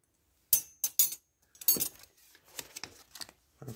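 Metal pieces clink and tap against each other in a few quick, bright, close strikes with brief pauses between.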